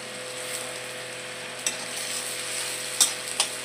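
Chopped onion and garlic frying in a pan, a soft steady sizzle running throughout, broken by a few sharp scraping clicks from stirring toward the end.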